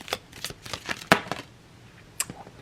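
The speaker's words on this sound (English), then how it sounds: "The tea leaf oracle cards, it's hard to shuffle sometimes" Tea leaf oracle cards being shuffled by hand, a rapid run of crisp, papery riffling slaps that thin out into a few isolated taps, close up and with no voices.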